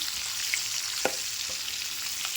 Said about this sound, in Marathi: फोडणी दिलेली आहे तेलामध्ये चिरी मोहरी आणि ही मिरची